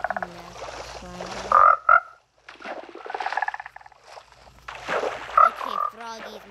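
Repeated croaking frog calls from a video game in short bursts with pauses between, some squeaky chirps mixed in, fairly loud and close.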